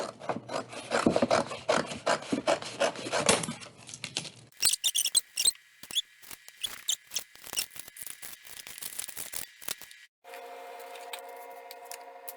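Scissors or a blade cutting down a cereal box seam, close and dry rasping cardboard scrapes in uneven strokes, then a change to sharper scratchy cuts and a brief steady hiss at the end.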